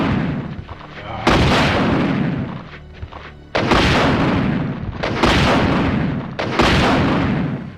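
The Infinite Rocket Launcher fires in Resident Evil 2: four loud, booming rocket blasts in irregular succession, each a sharp onset followed by a long rumbling decay.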